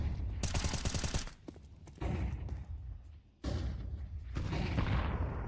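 Gunfire and flashbang blasts from a competitive tactical shooter match in a women's pro league. Rapid automatic bursts and heavy thuds come in dense waves with short pauses between them, and no one talks over the action.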